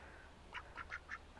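Khaki Campbell and Muscovy ducks at a farm duck coop give four quick, faint quacks in an uneven run over a quiet background.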